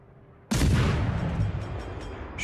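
Warship guns fire in World of Warships: Legends at a ship called the Kuma: one sudden loud boom, with a long rumbling roar that carries on and slowly fades, plus faint higher crackles near the end.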